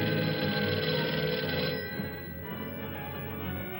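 A telephone rings in the 1959 film Teenagers From Outer Space, a bright, repeated bell trill that is loud at first and then drops to a softer level.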